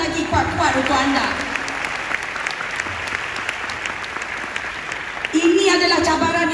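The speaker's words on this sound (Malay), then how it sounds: "Satu tepukan lagi kuat-kuat untuk anda." Loud, sustained applause from an audience at a talk, a dense steady roar of clapping that swells briefly near the end as a voice speaks over it.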